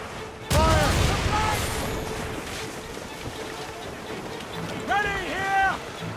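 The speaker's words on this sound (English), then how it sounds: "Many volleys. Fire!" Ship cannon volleys in the naval combat of Assassin's Creed Rogue go off as a sudden heavy boom, with a second rumbling barrage later, amid ocean and ship noise and loud shouting crew voices.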